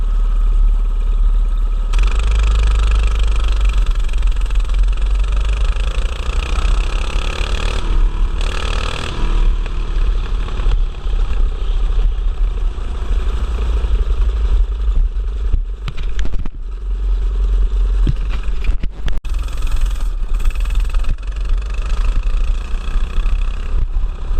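A Predator small engine fitted with a Chinese Mikuni carburetor running at steady speed, a loud, close, continuous mechanical drone with a deep low rumble and occasional clattery spikes, no talking.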